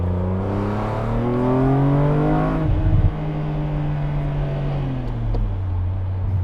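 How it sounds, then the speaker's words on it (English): A BMW M car engine revs up with a deep, throaty intake roar that rises in pitch, briefly drops at a gear change, then climbs again, loud and close. "every time you accelerate you just hear the intake"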